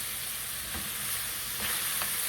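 Sweet and sour sauce with cut-up ring pineapple sizzles steadily in a pan, a continuous close frying hiss with a few soft stirring clatters and no talking.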